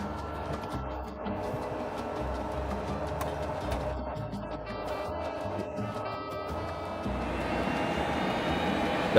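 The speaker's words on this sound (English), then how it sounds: "The pilot is now going through the procedures as we prepare for takeoff." Engines of a small nine-seat passenger plane, carrying seven passengers and two pilots, drone steadily before takeoff in Venezuela. The hum stays constant and slightly muffled, as heard from the cabin, and grows a little louder near the end.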